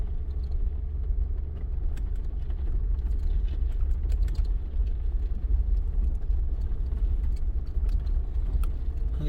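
A vehicle in 2-wheel drive climbs a dirt hill, its engine a steady, low, continuous rumble with faint rattles and crunches from the tires, heard from inside at a constant level with no talking.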